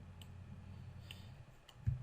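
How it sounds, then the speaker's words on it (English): Computer mouse clicked and dragged while rotating a selection in image-editing software, with faint sparse clicks and a slightly stronger click near the end over a steady low hum. "like that, clicking and dragging."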